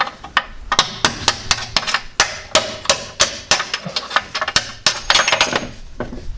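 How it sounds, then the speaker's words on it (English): Sharp metallic hammer blows on a punch, knocking the ball joint bolt free on a Peugeot 206 wishbone; a steady run of close, loud strikes, some in quick pairs, with no talk. "So I've just used a punch and my hammer for that."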